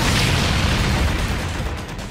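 A loud boom bursts from a front compartment blown up in the Volcanic Stronghold stage of a video game, its heavy rumble rolling and slowly fading over about two seconds.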